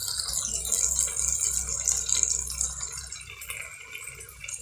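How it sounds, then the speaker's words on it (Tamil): Tomatoes and onions sizzle in a pan while being sautéed for a drumstick leaf and egg masala, a soft steady crackle with faint rattles and stirring clinks. "இப்போ நான் தக்காளி போட்டு வதக்கிட்டு இருக்கேன்."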